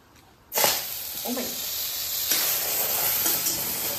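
Pointed gourd dropped into a little hot oil in a kadai over a flame, setting off a sudden loud sizzle that settles into a steady, hissing fry.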